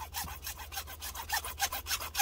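Hand saw cutting through a 1.5 inch PVC sump discharge pipe, quick rhythmic rasping back-and-forth strokes, close and steady, with no talk.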